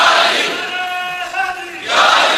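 A large crowd at a religious gathering commemorating the Battle of Badr roaring a slogan in unison, a loud sustained collective shout with a brief dip before another swell of voices.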